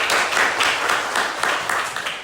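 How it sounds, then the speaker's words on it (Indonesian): A classroom of students claps together in a brief, dense burst of applause, close and fairly loud, with a few voices mixed in. "Tepuk tangan untuk kita semua"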